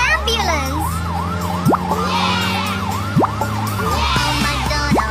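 Wailing ambulance siren sweeps up and down rapidly in a continuous warble, with a few sharp rising whoops cutting through a low engine hum.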